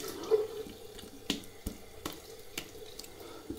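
Hot water runs from a tap into a bathroom sink during a shave, a faint trickle broken by scattered drips and small clinks, without speech.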